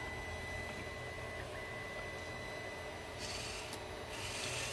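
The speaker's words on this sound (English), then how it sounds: "a bit of noise it was picking up from the printer, which you can hear going in the background" A printer runs in the background with a continuous mechanical rubbing and rasping whir, steady and moderately loud throughout, with a brief higher whine near the end.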